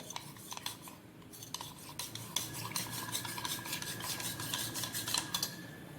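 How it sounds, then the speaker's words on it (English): A spoon stirs a small amount of milk with corn flour in a pot for cream of mushroom soup, making rhythmic, close scraping and rubbing strokes against the metal with no talking. "first you put little bit of milk and stir it nicely."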